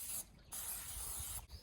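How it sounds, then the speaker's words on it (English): Cooking spray hisses onto a sandwich maker at a campsite in two close bursts: a short first spray, then a longer one of about a second. "We're gonna spray this down."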